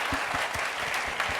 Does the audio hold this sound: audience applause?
yes